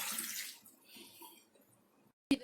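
Water pours from a container over chopped tender jackfruit in a cooking pot, a close splashing rush that fades out, followed by a brief sharp clink.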